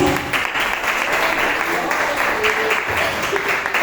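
A church congregation claps during an evening service, a dense, steady wash of applause filling the short stretch at a constant level, with voices mixed in.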